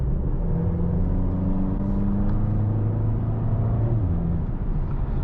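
Mercedes-AMG A35 4MATIC 2024 facelift engine in comfort mode, a steady low drone with smooth rising and falling harmonics, heard continuously from the cabin during a test drive with no talking.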